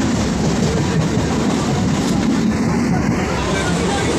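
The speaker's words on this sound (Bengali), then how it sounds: "আমাদের ট্রেনটি এগিয়ে চলেছে।" A passenger train runs along the rails with a loud, continuous rumble and rattle heard from inside, steady throughout with no clear breaks.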